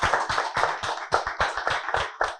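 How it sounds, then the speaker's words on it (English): A small audience at a school debate competition gives a brief round of applause, a sparse patter of distinct hand claps close by, slightly uneven in rhythm and fading after about two seconds. "Please give a round of applause."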